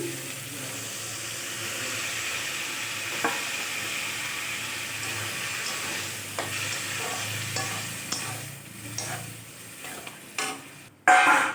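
Red lentils (masur dal) go into a fried spice paste in a pan, giving a continuous sizzle with stirring scrapes and occasional clinks, ending in a sharper clatter.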